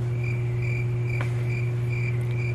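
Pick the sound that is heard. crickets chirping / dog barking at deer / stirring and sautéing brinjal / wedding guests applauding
crickets chirping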